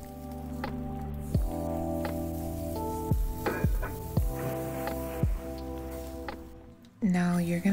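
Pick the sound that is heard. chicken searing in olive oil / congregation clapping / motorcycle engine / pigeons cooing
chicken searing in olive oil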